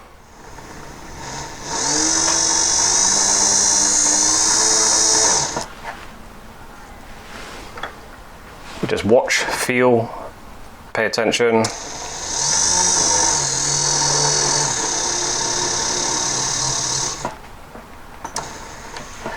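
A small power drill whirs in two long, steady runs while a delicate bit bores into a workpiece, with a pause, clicks and spoken instructions between the runs.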